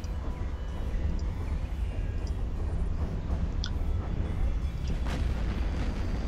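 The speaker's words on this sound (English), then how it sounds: "Explosions." Continuous rumbling explosions and booms roll through an EVE Online space battle, loud and dense with a few sharper bursts layered over the constant low roar.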